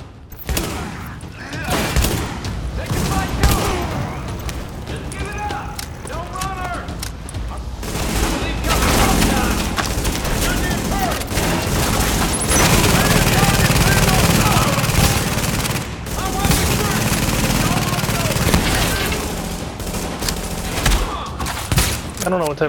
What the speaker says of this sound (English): They must have a light machine gun. He's a rate of fire coming out of their guns.